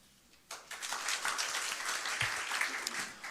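An audience at a Seoul panel discussion applauds to welcome a speaker. The clapping rises suddenly and stays dense and steady at moderate distance.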